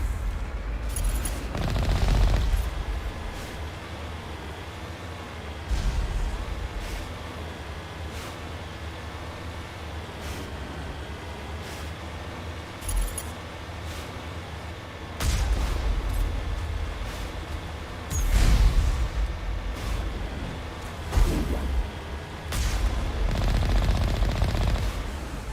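Missile fire in Mass Effect Legendary Edition on PS4, heard as booming blasts and rumbling impacts that swell at intervals over continuous battle noise, loud and close.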